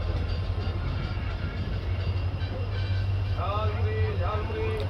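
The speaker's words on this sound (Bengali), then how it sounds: "এই যে ডিজেল ইঞ্জিনের অ্যাক্সিলারেশনের আওয়াজের সাথে স্টেশনগুলো থেকে ট্রেন ছাড়া" A diesel locomotive train pulls away from Sevok station with a continuous low engine rumble and steady rolling noise, loud and close. Faint higher tonal squeals come in near the end.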